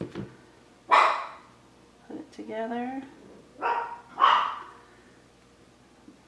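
A few sharp dog barks ring out from nearby, spaced apart, with a person talking in between.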